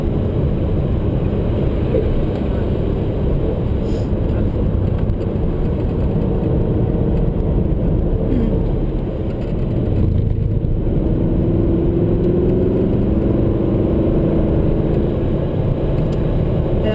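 A car cruising at moderate speed, heard from inside as a steady, loud, continuous road and engine rumble with no pauses throughout.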